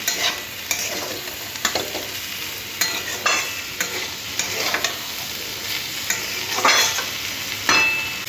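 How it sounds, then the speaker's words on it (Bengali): Potatoes and yardlong beans crackle as they fry in a pan, with a dense, steady sizzle broken by repeated scraping stirs of a spatula. The sound is close and continuous, and no one speaks. "আলুটা খুব ভালো করে লাল লাল করে ভেজে দিতে হবে"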